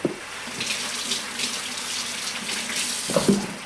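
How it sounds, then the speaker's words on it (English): Hands washed under a running kitchen tap, a steady close rush of water with slight splashing changes, ending in a few brief knocks. "wash hands."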